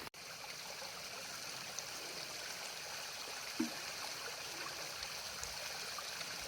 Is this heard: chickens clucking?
no